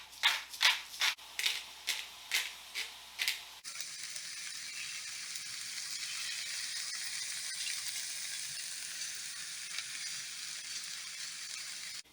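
Artichoke chickpea sauce sizzles in a pan over medium-high heat; a few rhythmic scraping strokes come first, then a steady, close, even hiss carries on alone.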